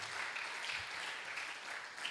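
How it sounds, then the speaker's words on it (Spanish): Soft, steady applause from a church congregation during an evening service, continuous clapping heard at a distance with no voices over it. "Denle un fuerte aplauso al Señor en esta"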